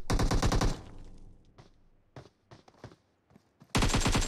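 PUBG Mobile gunfire striking a wall: a loud burst of rapid automatic shots, then scattered sharp single impacts at moderate distance, and another loud rapid burst at the end, with no talk.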